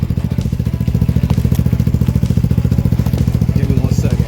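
A Lifan KP Mini 300 (ZS175FMN) motorcycle engine runs with its muffler held on by hand, a loud, close, rapid pulsing putter that stays steady and even from start to finish.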